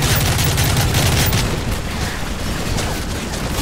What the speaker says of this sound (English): I'm getting shot by a heli and like 16 guys here.